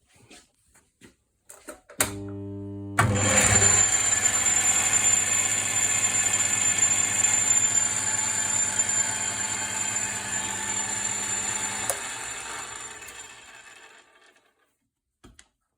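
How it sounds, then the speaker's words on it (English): An adjustable speed motor driving the gears of a Myford lathe starts up with a loud, steady mechanical whine and rattle of noisy gears, running for about ten seconds before winding down, with no talking. "The main one is this adjustable speed motor, which if I show you how noisy the gears are."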